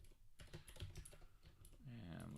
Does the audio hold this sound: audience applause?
no